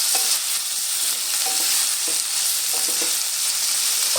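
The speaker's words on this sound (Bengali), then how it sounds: "একই সঙ্গে খুব ভালো করে নেড়ে চেড়ে টমেটোটাও আমি ভেজে নেব।" Chopped tomato being stirred and fried in a pan while making egg puffs, a steady loud sizzle running throughout with soft scraping stir strokes at intervals and no talk.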